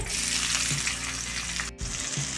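Cinnamon, cloves and sliced onion fry in hot oil in a pan with a loud, steady sizzle that runs throughout with no break.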